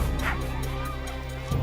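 Sled dogs bark in a crowded downtown Anchorage street at the start of the Iditarod race, a few sharp barks amid a busy, noisy background.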